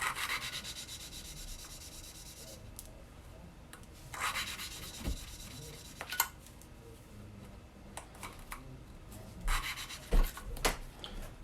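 Hand-lapping engine valves on a 1950 MG during a rebuild, a soft gritty rubbing that comes in intermittent bursts as the valve is twisted back and forth against its seat, with quiet pauses between strokes.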